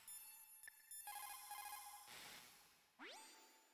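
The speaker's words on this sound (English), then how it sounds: "Let's make another phone call." Codec call alert from the Metal Gear Solid video game: a faint electronic ringing of repeated bright beeps and tones, ending in a rising sweep that settles on a steady tone.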